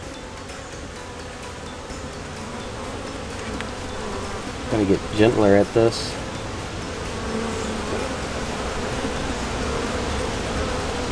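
Honeybees buzz steadily in an open hive with a brood box during an inspection, a dense close hum throughout, with a brief louder burst midway and a person speaking quietly once.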